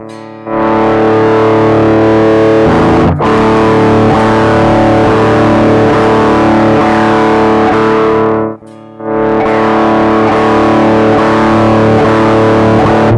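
An electric guitar runs through a Donner Dark Mouse mini distortion pedal turned to full, giving loud, heavily saturated sustained chords that ring out, cut off sharply, then return for another long held strum.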